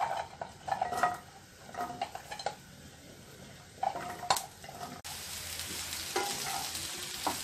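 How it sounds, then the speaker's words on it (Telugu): Bitter gourd pieces frying in hot oil in a kadai, with crackling sizzle broken by clinks and scrapes of a spoon stirring against the pan, close and fairly steady. "నూనె కొంచెం వేడైన తర్వాత కాకరకాయ ముక్కలను వేసి వేయించుకోవాలి."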